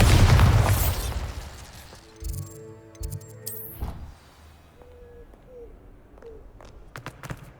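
Explosions from the Bombarda blasting spell in the Hogwarts Legacy video game, a loud boom at the start followed by several lighter bursts, pops and magical chimes, with no talk.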